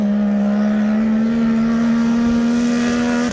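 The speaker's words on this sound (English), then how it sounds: "you can hear the blow-off valve working" A boosted sidewinder machine drones steadily and loudly up close on a test run, with a sustained engine tone and a turbo blow-off valve sounding near the end.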